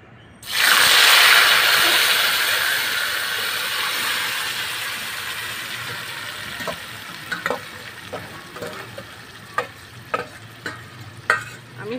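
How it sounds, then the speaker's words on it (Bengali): Lote fish hits hot mustard oil in a wok with a sudden loud sizzle that slowly fades into steady frying, followed by a series of sharp spatula scrapes and taps as the pieces are stirred. "এখন আমি মাখা মাছগুলো কড়াইতে দিয়ে দিব।"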